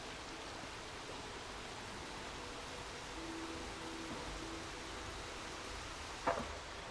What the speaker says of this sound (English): Yeah, I like the sounds of the water.